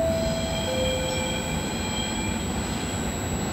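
A train rolls into platform 8 of Padova station with a brief metallic wheel squeal, steady rumbling and rail noise close by, no voices.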